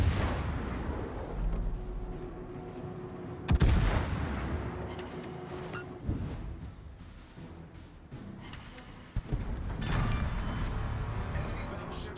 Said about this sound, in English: Just focusing on these incoming shells.